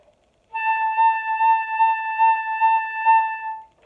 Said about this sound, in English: And that'll sound like this on the flute.